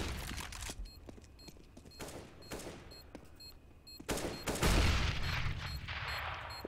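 Decoy grenade in a video game firing off fake gunfire: bursts of rapid shots crackle in irregular volleys, with a louder, denser flurry near the end.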